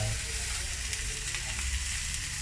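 Beef steak with garlic in a home frying pan, a loud continuous sizzle filling the whole moment, close and steady.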